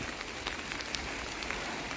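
Steady rain pattering on a surface, with scattered droplet taps over a constant wash of noise.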